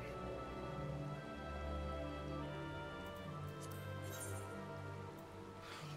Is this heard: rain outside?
yes